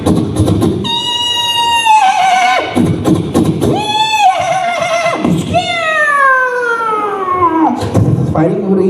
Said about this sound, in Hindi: कहीं घोड़े दौड़ रहे हैं